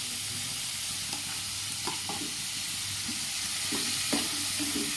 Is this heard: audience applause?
no